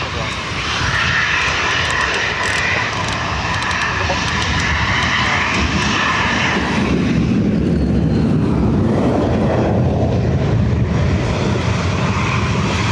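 Ryanair jet airliner taxiing out at Dublin Airport, a loud continuous engine whine and rumble that shifts in tone partway through as it moves, with someone talking over it.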